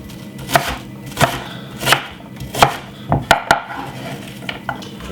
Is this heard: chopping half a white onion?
yes